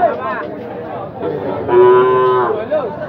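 A Sahiwal bull at a busy cattle market gives a loud, close, drawn-out moo, with faint crowd chatter from the market around it.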